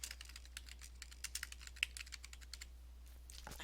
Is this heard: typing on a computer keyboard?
yes